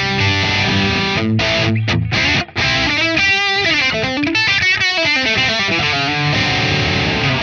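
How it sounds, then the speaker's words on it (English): Electric guitar played through a Celestion Plus digital impulse response with added reverb, sustained distorted chords and notes ringing out with a wash of tail, loud and continuous with a brief drop near the middle. "So a really nice reverb that we can add in"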